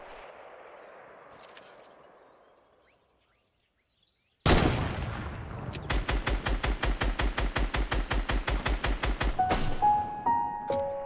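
Rapid bursts of gunfire tear down a fort in Fortnite, a loud impact followed by a steady, evenly spaced string of shots lasting several seconds, ending with a few scattered clinks and thuds; a quiet stretch precedes it.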